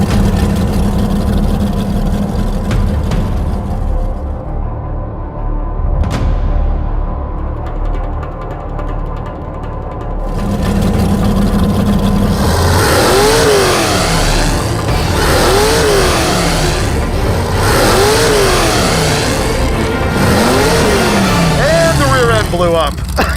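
A Mazda-powered Mazdarati race car on nitrous accelerates hard down the track: a loud, close engine roar climbs through repeated rising rev sweeps after a quieter steady drone at the start.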